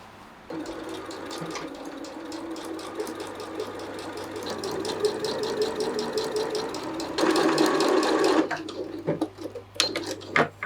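A sewing machine hems the bottom of a thrifted dress, its rapid needle stitching running steadily and close for most of the stretch, with a louder burst near the end and a few short starts and stops.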